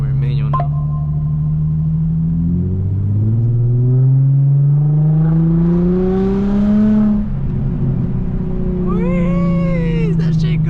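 A straight-piped Infiniti G35 exhaust in manual mode, revving up in a long rising pull that drops off and then climbs again with a loud raspy drone, up close with voices in the background.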